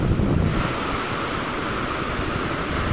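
Sea surf breaking against rocks on the Konkan coast near a seaside waterfall, a steady broadband wash with a rougher low rumble at the start, close and loud, with wind buffeting the microphone and no talk.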